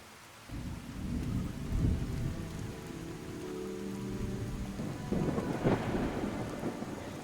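Steady rainfall in the video game Fallout: Tale of Two Wastelands, soft and continuous, with low rumbles of thunder rolling under it and no voices.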